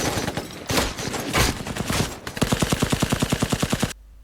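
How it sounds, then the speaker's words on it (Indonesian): Rapid gunfire crackles in dense bursts, ending in a fast, evenly spaced string of loud shots that cuts off abruptly. "Tiba-tiba terdengar rentetan tembakan tapi tidak diarahkan kepada mereka"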